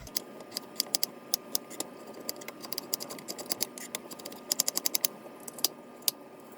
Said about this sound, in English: I'm gonna chop up the potatoes and the apple.